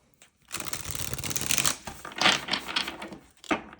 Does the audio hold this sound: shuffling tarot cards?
yes